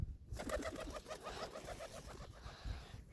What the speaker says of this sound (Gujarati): આ ગુલેટીઓ પારેવો છે